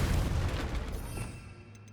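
A Confringo blasting spell explodes in the Hogwarts Legacy video game, a loud, booming, low-heavy blast that rumbles and fades away over about two seconds, with no voices.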